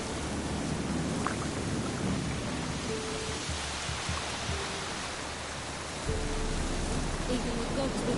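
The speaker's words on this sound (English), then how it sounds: "Mages will fight on account of this downpour." Heavy, steady rainfall in The Witcher 3: Wild Hunt on PS4 roars continuously with low rumbling underneath, dense and loud throughout, with faint tonal bits drifting in and out.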